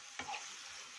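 Small marinated chicken breast pieces stirred in a hot frying pan, a quick scrape of the spatula over a steady sizzle that fills the short moment without any talk.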